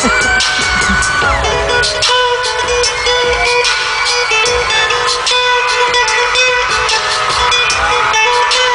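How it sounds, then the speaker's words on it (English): A concert crowd cheers and whoops loudly and continuously over a guitar solo, a dense wall of shouting voices that stays level throughout. "the crowd's going nuts for that too"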